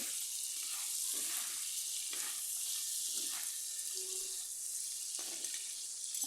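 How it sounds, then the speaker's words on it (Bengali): Crab pieces frying with salt and turmeric in a pan, a faint even sizzle with soft periodic stirring scrapes, no talking. "এর মধ্যে কাঁকড়া দিয়ে দিলাম লবণ হলুদ দিয়ে কষিয়ে নিচ্ছি"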